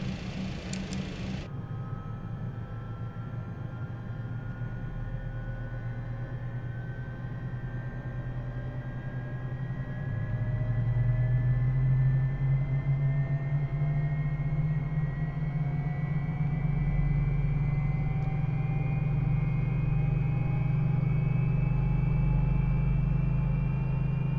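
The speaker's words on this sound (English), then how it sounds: "Right, let's listen to the startup." Jet engines of a TFDI MD-11 FedEx airliner spooling up in MSFS 2024, a steady loud rumble with rising whine tones that climbs and thickens midway as another engine lights and settles into a sustained roar.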